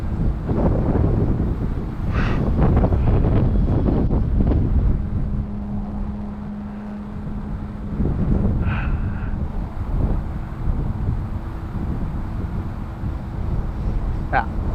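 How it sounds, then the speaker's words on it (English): Heavy wind buffets the microphone in a low, rumbling roar that rises and falls while flying a Dynam AT-6 Texan model plane, with a voice speaking intermittently and a faint engine drone. "Ooh, it is windy up there."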